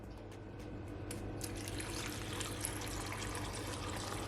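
Water poured into a blender jar holding cucumber, a soft, steady trickle and splash running a few seconds at close range, fairly quiet.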